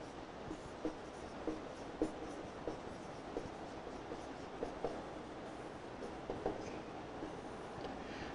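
Someone writes a definition by hand, probably in chalk or pen on a board in a classroom lesson, making soft repeated scratchy strokes with small taps at intervals. The writing is quiet and close, with no talk over it.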